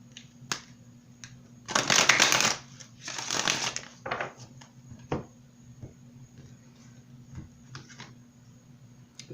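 A deck of oracle cards is shuffled in two quick bursts of riffling and slapping near the start, followed by scattered soft clicks and taps in an otherwise quiet room.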